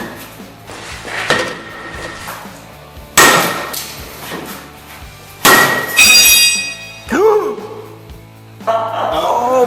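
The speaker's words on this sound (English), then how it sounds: "we broke the hammer" Heavy hammer blows smashing against a hard target during a zombie-killing weapon test, several loud, sharp impacts spaced a few seconds apart with clanging, ringing metallic breaks and scattered debris between hits.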